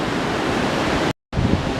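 Sea waves break against rocks along the North Sea coast path between North Gare and Crimdon Dene, a steady loud wash of surf with wind buffeting the microphone, cut by a brief silent gap.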